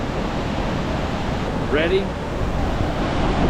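Lower Yosemite Falls in Yosemite Valley roars as a steady, broad wash of water noise, with a brief voice cutting in near the middle.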